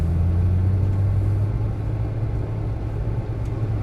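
A Porsche Turbo S drives on the road with a steady low engine hum and road rumble, a continuous even drone heard from inside the car.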